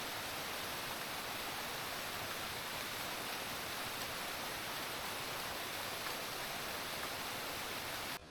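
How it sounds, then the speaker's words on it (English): Tumpak waterfall in East Java roars as a constant, dense rush of falling water, a steady broadband roar with no breaks or voices over it. "As we descend deeper, the sound of the waterfall grows louder and more powerful."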